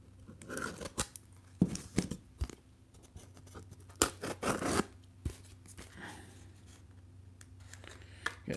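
Knife or scissors slicing and tearing open a mail package of trading cards, a string of short, close scraping and ripping bursts with rustling cardboard and plastic between them, no talk.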